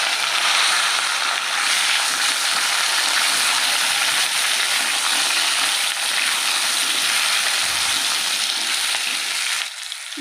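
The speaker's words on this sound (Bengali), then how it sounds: "এই মাছ ভাজার তেলেই কিন্তু এই গাঁঠি কচু আলুগুলো দিয়ে দেবো।" Chunks of taro and potato sizzle loudly in leftover fish-frying oil, a dense steady crackle and hiss that fills the whole stretch, easing slightly near the end.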